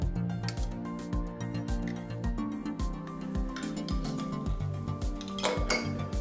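A spoon working over freshly steeped French press coffee, stirring the surface and skimming foam, producing steady rhythmic clinks and scrapes of metal against the vessel, close and fairly continuous, with no talking.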